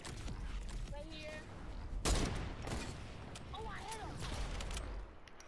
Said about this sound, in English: there's somebody shooting real close